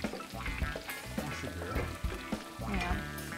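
Food sizzles and crackles in a small pan on a wood kitchen stove, a quiet close-up frying with faint scraping and stirring sounds and no talking.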